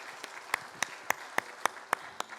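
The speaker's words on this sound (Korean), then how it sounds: "우리 한번 박수로 맞아주시기 바랍니다." A church congregation applauding at a Sunday service, heard as a slow, even run of about eight distinct claps evenly spaced, fairly close.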